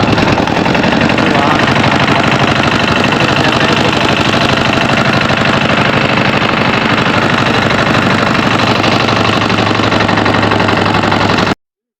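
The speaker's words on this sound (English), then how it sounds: "This is our ship getting started." A river boat engine chugs steadily and loudly, a constant mechanical rattle and drone that runs without a break.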